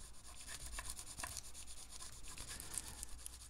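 A sanding block rubbed back and forth over a maple guitar neck under repair, giving close, soft, rhythmic rasping strokes of sandpaper against wood.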